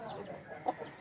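A sick pet chicken suffering from fowl pox gives a few soft, close clucks in a short burst, with a faint voice in the background.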